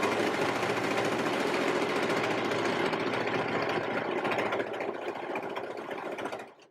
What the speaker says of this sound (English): So I'm sewing a straight line rather than a corner.